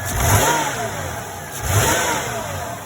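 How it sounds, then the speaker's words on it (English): A 1993 GM 3800 3.8L V6 with a high idle fault revs twice as the throttle body is opened and closed rapidly, each rise falling back toward idle, heard close up. "when we open and close the throttle body rapidly"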